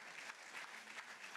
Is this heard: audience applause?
yes